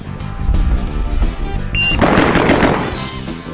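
Rapid single-action shots fired at five targets in under a second, a quick burst of loud overlapping reports ringing out together.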